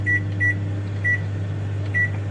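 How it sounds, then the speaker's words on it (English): A microwave oven hums steadily while heating a ready-meal of spaghetti bolognese, a constant low drone with a faint higher whine riding on top, heard close with no talking. "I'm gonna put it in the microwave."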